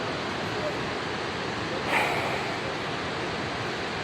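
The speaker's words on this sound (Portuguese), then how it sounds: "Essa é a famosa Cachoeira da Fumacinha." Steady roar of Cachoeira da Fumacinha, a waterfall in Chapada Diamantina, Brazil, as a continuous broadband rush that stays loud and even throughout with a slight swell near the middle.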